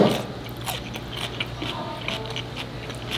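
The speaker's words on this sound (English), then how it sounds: "I gotta eat this up close so you can hear just how crunchy the green beans are." Close-up crunching and chewing of stir-fried green beans with ground pork at a seafood restaurant, a steady run of crisp bites over soft room background.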